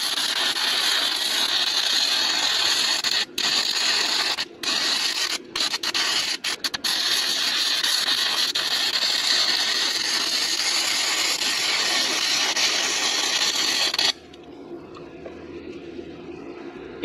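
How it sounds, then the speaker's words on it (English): Arc welding with a stick rod on a trailer jack outdoors, a loud continuous crackling sizzle with several short breaks as the arc stops and restarts, ending abruptly into quieter ambience. "So what I'm going to do when I weld this, I'm going to try to stay below that edge here"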